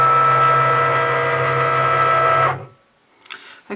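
A Cricut cutting machine scoring a foiled anniversary card whirs with a steady, close mechanical drone for about two and a half seconds, then stops abruptly, leaving near silence and a couple of soft handling sounds.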